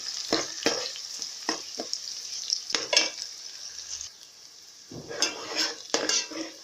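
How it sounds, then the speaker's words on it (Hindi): Onions frying gently in a pan for a quick chicken karahi, a steady bright sizzle broken by repeated scrapes and clinks of a spoon stirring against metal, close and without any talk. "प्याज को हम फ्राई करेंगे"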